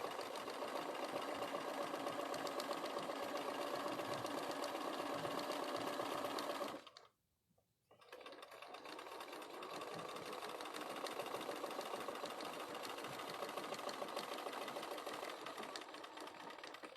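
A sewing machine runs steadily along a seam with a fast, even motor hum and needle patter, stopping briefly about halfway, then starting up again and continuing.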